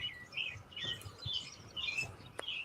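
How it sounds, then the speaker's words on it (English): Birds chirping just after sunset on a mild evening, several short bright calls repeating in quick succession at moderate distance, with a brief sharp click near the end and no talk. "Birds chirping."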